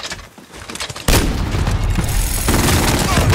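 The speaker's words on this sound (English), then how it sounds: "Cluster strike is going for launch" Cluster strike explosions pound down in Call of Duty Modern Warfare as a sudden loud blast opens into a dense, continuous roar of booms and crackling gunfire, close and heavy throughout.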